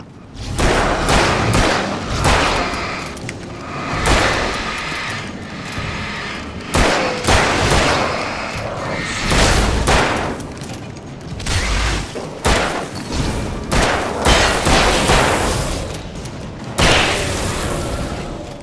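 Gunfire and heavy thuds from the Alan Wake video game, a dense run of booming shots and impacts with loud hits recurring unevenly across a busy game soundtrack, no talk.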